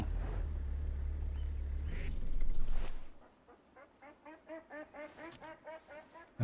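Birds call in the hunting video game Way of the Hunter, a rapid, regular run of about a dozen duck-like quacks after a stretch of rumbling vehicle noise, fairly close and clear.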